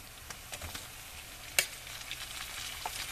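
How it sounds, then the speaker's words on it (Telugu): Chicken frying with onions in a kadai, a steady close sizzle and crackle with one sharp clatter partway through and occasional small spits. "పళ్ళెంలో చికెన్ మొత్తం కడాయిలో వేసేస్తున్నాను."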